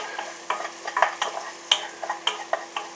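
Chilies and garlic fry in a pan for a pasta bake, a light sizzle under repeated spoon taps and scrapes every fraction of a second, close by with no voices.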